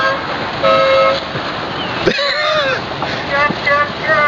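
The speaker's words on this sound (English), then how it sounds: "They're all honking their horns." Sailboat horns honking out on the water, several sustained toots from different boats that overlap and come and go, with a person talking over them and a loud bump partway through.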